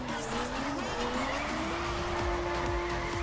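A Zagato car drifting in The Crew on dry asphalt, with tires squealing in a sustained, rising screech over a steady engine drone, loud and close throughout.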